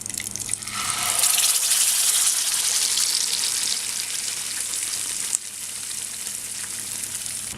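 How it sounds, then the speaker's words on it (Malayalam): A thick tomato and onion paste for butter chicken hits a hot pan and bursts into loud, steady sizzling that continues with a bubbling hiss, close and without talk. "ഇനി ഇതിലേക്ക് നമ്മൾ അരച്ച് വെച്ചിരിക്കുന്ന തക്കാളിയും സവാളയൊക്കെ ഉള്ളത് അത് ഇതിൻ്റെ അകത്തേക്ക് ഒഴിക്കാം."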